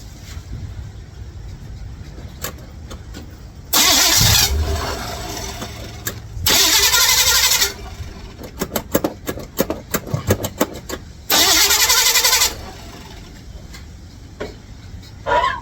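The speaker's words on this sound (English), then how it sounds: "So we're gonna go ahead and turn on the vehicle. We'll see if it fires up." A 1955 Chevrolet Bel Air with a suspected fuel problem cranks in three loud, roughly one-second bursts, separated by clicks and rattles, as the engine struggles to fire.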